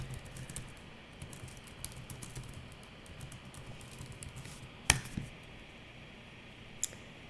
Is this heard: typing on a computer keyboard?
yes